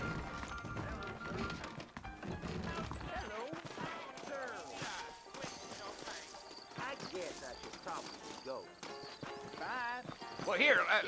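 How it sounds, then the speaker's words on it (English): Horses clip-clop at a trot in a Red Dead Redemption game scene, steady hoofbeats close by with an occasional whinny, under a man's drawled speech. "I got the horses saddled up and ready out front."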